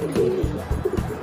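A pigeon coos softly in a few low, repeated throaty pulses, close by with faint background noise.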